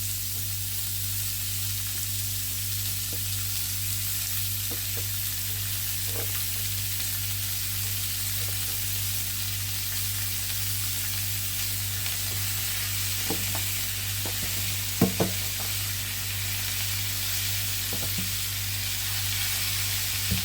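Food browning in melted lard in a pan, a constant even sizzle with a low steady hum beneath and a few soft clicks and pops, left undisturbed with no talking.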